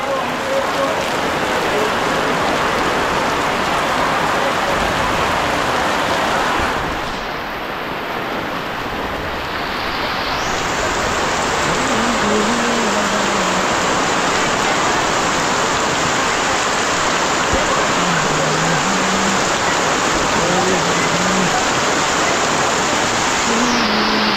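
Steady, dense storm rain hiss fills the scene, briefly dipping then returning, with a few faint tonal sounds in the background.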